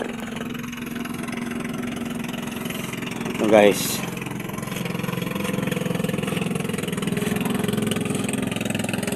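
A steady low motorboat engine drone as a boat passes nearby, continuing throughout while someone talks over it.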